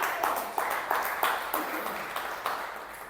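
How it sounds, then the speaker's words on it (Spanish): A church congregation claps in a steady rhythm, roughly two to three beats per second, the claps loud and near and filling the room alone. "Dale un aplauso al Señor"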